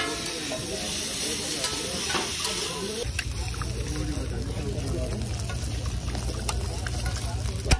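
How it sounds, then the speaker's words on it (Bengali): Egg frying on a paratha for an egg chicken roll at a street food stall, a steady soft sizzle and stirring clatter under busy background chatter and a low hum that starts partway through. "পরোটার উপর যখন ডিমটা খেলা করে না, কি ভালো লাগে।"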